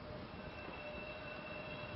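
An old red Brill subway car on the Philadelphia rail line rolls past with a steady rumble of wheels on track and a thin squeal, continuous and fairly distant, with no voices.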